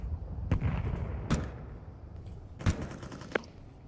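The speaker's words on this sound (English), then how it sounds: "Throwing a grenade." Several sharp explosive bangs in a first-person shooter game, roughly four separate blasts spaced about a second apart over a low rumbling background.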